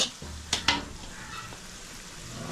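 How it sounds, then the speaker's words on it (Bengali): Vegetables for Chinese-style fried rice sizzle in a pan, a steady frying hiss broken by a couple of sharp clinks from stirring against the metal. "রাইসের ভেজগুলোকে এখন ভাজা হচ্ছে"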